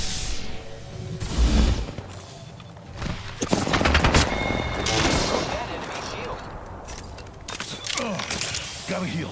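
Rapid bursts of gunfire from an Apex Legends match crackle in close, dense volleys with sharp single shots scattered among them, running loud throughout.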